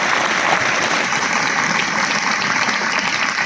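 A school audience at an annual function gives a student loud, steady applause, a thick continuous roar of many clapping hands with no break.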